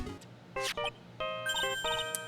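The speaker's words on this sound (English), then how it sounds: "Hey, Nick, your cell phone's ringing." Nokia cell phone ringing in the video game Phoenix Wright, a short electronic ringtone melody of bright beeping tones, played clearly in a few quick phrases.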